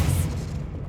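A brief, punchy magical burst of the Expelliarmus disarming spell in Hogwarts Legacy, a close, full-bodied whoosh with a low boom that fades quickly.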